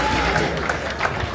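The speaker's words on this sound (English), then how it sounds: "a big round of applause for our podium and make some noise for your new world champion" A crowd applauds the podium at the Hyrox World Championship, a steady wash of clapping and cheering filling the large event space, loud and continuous under a voice on the PA.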